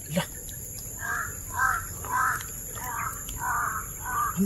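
Several crows cawing outdoors in a repeated series of harsh calls, roughly six evenly spaced caws at moderate distance over a steady background hiss.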